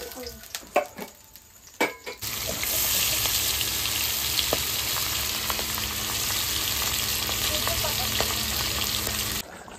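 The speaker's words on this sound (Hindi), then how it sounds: "तो चलिए एक एक करके सारा फ्राई कर लेंगे" Fish fries in oil in a kadhai, starting after a few scattered clicks and knocks, then settling into a loud, continuous close-up sizzle that runs for several seconds and cuts off abruptly.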